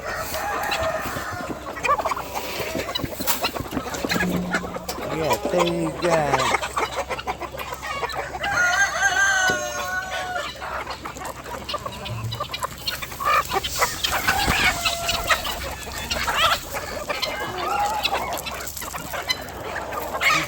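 Free-range chickens on a homestead cluck steadily while a rooster crows, moderately close and continuous, with a brief spoken remark over the flock.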